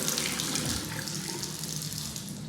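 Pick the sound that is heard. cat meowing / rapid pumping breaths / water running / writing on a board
water running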